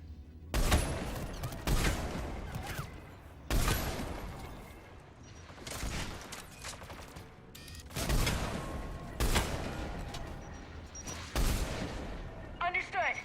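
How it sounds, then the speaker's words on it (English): Anti-aircraft guns firing in the video game Mass Effect 3: heavy booming shots repeat every second or two, each with a rumbling tail, over a low ambient battle background. "AA guns ahead."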